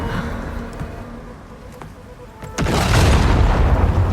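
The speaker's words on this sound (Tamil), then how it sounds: "ரொம்ப லேட்டாக வெடிக்குது" An explosion in Horizon Forbidden West. Faint game ambience and scattered clicks give way to a sudden loud boom about two and a half seconds in, followed by a sustained, rumbling roar that continues to the end.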